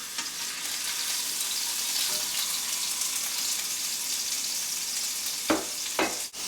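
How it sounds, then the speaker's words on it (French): A bison medallion sizzles in a hot pan, a steady close crackling hiss throughout, with two sharp clattering knocks near the end. "vous allez mettre le médaillon dans la poêle"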